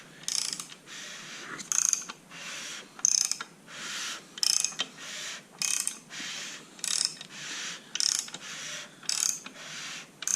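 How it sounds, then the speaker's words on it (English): Crankshaft of a freshly rebuilt Small Block Chevy V8 turned over by hand with the heads torqued down, giving about ten evenly spaced mechanical ratcheting clicks and whirs, each roughly a second apart, close and fairly quiet with no talk. "I could spin the crank itself when it was torqued down with 1 finger."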